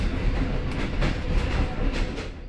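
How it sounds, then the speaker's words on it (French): A passenger train on the line between Shkodra and Durrës rumbles steadily along, with a continuous low roar and a faint clickety-clack of the wheels over the rails, heard from inside a carriage and without any talk. "Deux trains circulent quotidiennement entre Shkodra et Durrës dans les deux sens."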